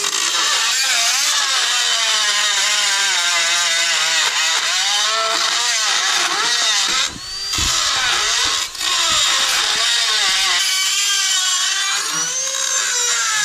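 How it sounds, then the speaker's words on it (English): A Dremel rotary tool grinding off a rusty bolt during a coilover install on a Miata kart, a loud, steady high-pitched whine that wavers in pitch as the load changes, with two brief dips near the middle, close up and with no voices. "We're Dremeling off the bolt."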